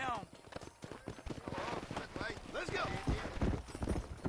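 Horse hooves clip-clopping in Red Dead Redemption, a fast run of dense thudding steps under someone talking throughout.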